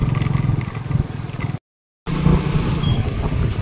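A car engine runs steadily while climbing a steep ghat road through the Srisailam forest, a continuous near rumble with some clatter and scraping, broken by a brief silent gap midway.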